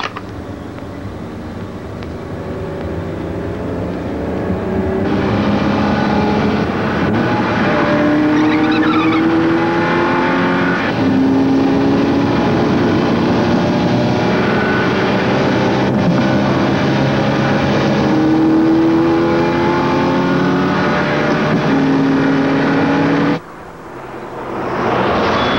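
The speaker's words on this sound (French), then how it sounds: "Ferrari rouge, Testarossa, 307 km/h." A red Ferrari Testarossa racing at 307 km/h, a loud sustained engine roar with rising and falling pitch through gear changes that cuts off abruptly near the end.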